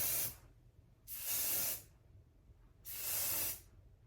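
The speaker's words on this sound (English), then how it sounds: "So I'm gonna grab some hairspray." Hairspray from an aerosol can misted onto a short-hair French braid updo, three separate hissing bursts of about a second each with brief quiet gaps between, close and clear with no talking.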